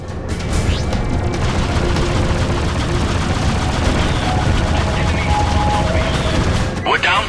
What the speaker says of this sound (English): We're taking heavy fire from its turrets